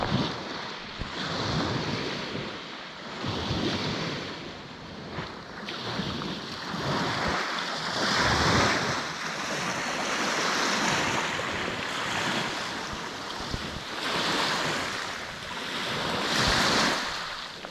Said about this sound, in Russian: Я гулял по пляжу, слушая музыку прибоя